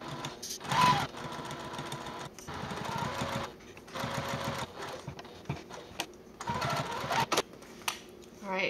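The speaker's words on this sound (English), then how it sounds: "we're going to go ahead and sew this with a quarter of an inch seam allowance along the left, the bottom, rounded edge, and the right side" Sewing machine stitching a quarter-inch seam around a fabric wallet, running in several bursts of rapid mechanical whirring with short pauses between them, with a voice speaking over parts of it.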